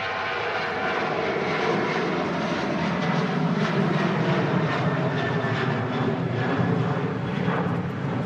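An airliner takes off from Manchester Airport on a windy day, departing for Eindhoven. Its engines make a loud, steady roar that lasts the whole stretch, with no voices.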